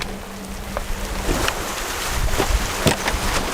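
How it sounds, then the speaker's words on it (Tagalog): Waves crash against a sinking island shore as rain begins to fall, a steady wash of water and wind noise with a few louder splashing bursts. "humampas ang alon at unti-unti nang bumuhos ang ulan"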